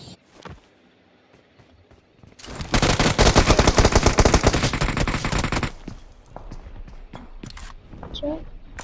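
Gunfire in the mobile battle royale game PUBG Mobile: a dense, loud burst of rapid automatic shots lasting about three seconds, with quieter game sounds before and after and a voice talking.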